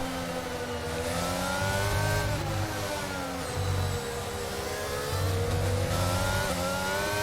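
An F1 car engine in the F1 22 video game, a high whining rev rising and falling through gear shifts, loud and sustained as it accelerates.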